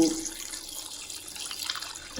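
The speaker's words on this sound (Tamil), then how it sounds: "இப்போ லைக் அவ்வளோ நீங்கள் தண்ணி ஊற்றணும் அதில்" Water pours into a cooking pot for boiling pasta, a steady close splashing rush that runs alone for about two seconds.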